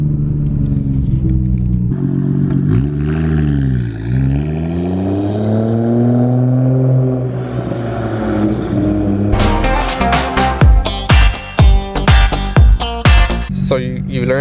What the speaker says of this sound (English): So what I'm going to do is just give it some gas, start letting go, give some gas and let go of the clutch.